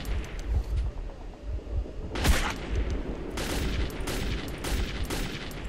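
Gunfire in Metro 2033 rattles in bursts, with loud sharp shots around the middle and a dense run of rapid fire toward the end, close and harsh.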